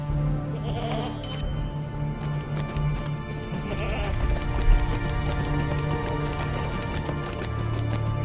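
Goat bleats in the Lord of the Rings Online MMO, mixed with clip-clopping hooves and steady game ambience, fairly loud throughout with a brief louder moment midway.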